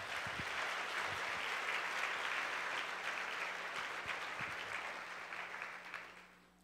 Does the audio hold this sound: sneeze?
no